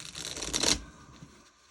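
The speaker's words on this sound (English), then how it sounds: "I'm just going to shuffle it again because I haven't shuffled it enough." A short, brisk riffle of tarot cards being shuffled, loudest in the first half, then fading into quiet handling.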